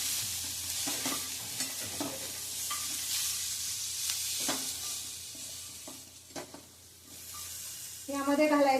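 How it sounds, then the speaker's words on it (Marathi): A guava raita mixture with spices and salt sautéed in a pan, sizzling under repeated stirring scrapes and light utensil knocks, close by, with a brief voice near the end. "हे सगळं घातल्यावर पुन्हा एकदा छान परतून घ्यायचंय"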